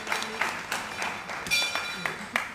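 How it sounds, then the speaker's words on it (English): Light, scattered applause from a small audience at a Democratic Labour Party branch meeting, brief bursts of clapping that rise and fall over a couple of seconds. "Let's give them a big round of applause."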